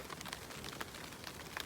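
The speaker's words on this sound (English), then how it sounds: "It is raining this morning" Morning rain patters steadily on a nearby surface at a mountain camp, a faint, even hiss of scattered drops with no voices.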